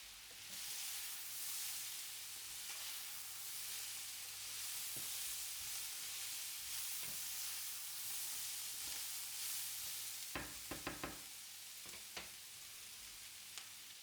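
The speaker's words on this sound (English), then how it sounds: "Then add the onion last and continue sautéing until everything develops a light golden color and a wonderful aroma" Chopped onion sautéing in a pan for a braised beef sirloin dish, giving a steady, dense sizzle close by, with a cluster of sharp scraping and clicking stir sounds near the end.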